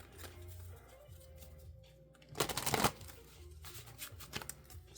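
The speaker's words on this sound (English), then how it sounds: "So I'm just going to shuffle a little bit off to the side." Tarot cards riffle and slide in a quick shuffle off to one side, a brief burst of papery flapping amid soft handling sounds, close and quiet, with no talking.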